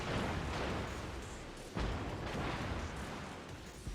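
Cruiser guns of the USS Seattle, a Tier IX American cruiser in World of Warships, fire in heavy rumbling booms that blend into a continuous roar. A sharp blast stands out midway, and no one speaks.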